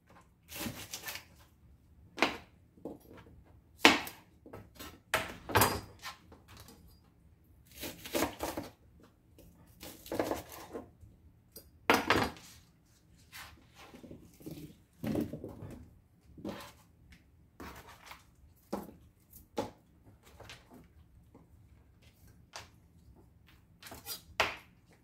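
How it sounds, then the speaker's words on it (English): A knife rough-chops vegetables for sofrito on a cutting board, with irregular clusters of crisp close thuds and short rapid runs separated by pauses, and no talking. "Chop the bottoms off. Rough chop those as well."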